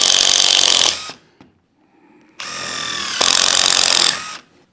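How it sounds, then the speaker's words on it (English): A power drill bores a hole into walnut wood, loud high-pitched whine running about a second, a short pause with faint handling, then a longer steady drilling burst close up. "Start out with your countersink, find your hole position and drill the hole"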